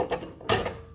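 A mail slot flap in the front door of an old furnished London house snaps shut: a short double clack with a faint rattle, close and sharp in a quiet hallway.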